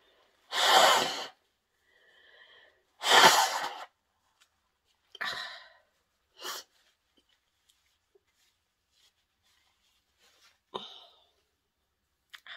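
A person with a fit of sneezing blows their nose in several loud, forceful, breathy bursts, two long honks followed by shorter puffs, separated by quiet pauses and heard close up.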